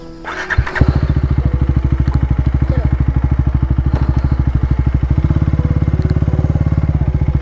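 A motorcycle engine starts with a few thumps and then settles into a steady, loud, close idle with an even rapid firing beat, while voices speak briefly near the start.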